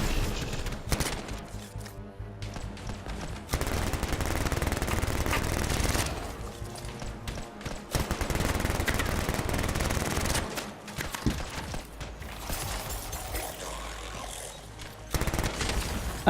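Rapid bursts of automatic gunfire from weapons in the Anthem video game, loud and close, with stretches of sustained fire broken by short pauses and a few heavier booms.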